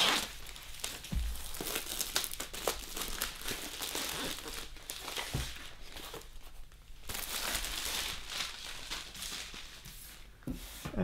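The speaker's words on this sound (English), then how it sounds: "tearing open the plastic wrapper that's keeping it sealed" A plastic wrapper around a foldable grey cube ottoman being torn open, a long run of close, crinkling, crackling rips and rustles that pause briefly midway and then continue.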